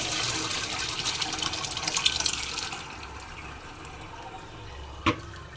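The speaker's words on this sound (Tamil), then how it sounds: "தண்ணி வடிகட்டி பிசைஞ்சு எடுத்துடலாம்." Cooking water is poured off boiled tara roots, a splashing, gushing stream for a few seconds that then thins to a quiet trickle, ending with a single sharp clunk of a pot or utensil.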